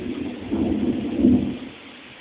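Thunder from a nearby lightning strike during a heavy storm in Ibiza rolls in as a deep, loud rumble that swells, peaks, then fades over about two seconds.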